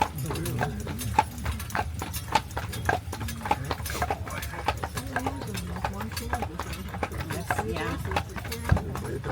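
Three-horse teams pulling large pasture carriages on Mackinac Island, with hooves clip-clopping in a steady, continuous rhythm on the street close by, while a guide talks over them throughout.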